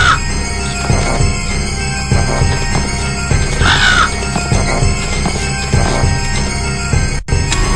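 A mechanical bird attacks in a lighthouse puzzle game, giving harsh crow-like caws over a steady, full electronic backdrop that runs the whole time.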